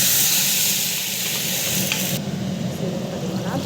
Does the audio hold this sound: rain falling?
no